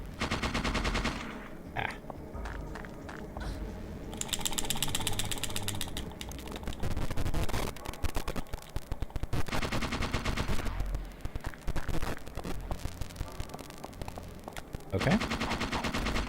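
Rapid gunfire in the video game Parasite Eve 2, dense mechanical bursts of automatic shots running almost continuously with short pauses, a player's brief voice breaking in once.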